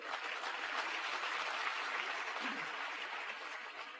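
Dense, sustained audience applause fills a business gathering honouring a husband-and-wife team, steady and unbroken throughout with no voices rising above it.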